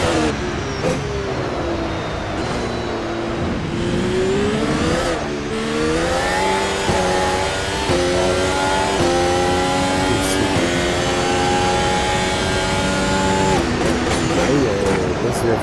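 In the racing video game Amax Race, a car engine revs and climbs through its gears, with a loud, sustained whine rising and dropping in pitch as someone talks over it.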